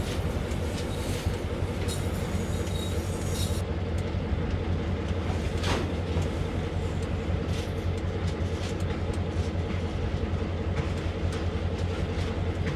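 An SW1000R locomotive hauls a train on the Northeast Corridor in Train Sim World, a continuous low diesel drone with rolling wheel noise and faint rail clicks, steady and unbroken throughout.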